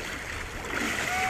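Water splashes and swirls during an outdoor river baptism by immersion, a steady broadband wash of moving water that swells toward the end, with voices faintly present.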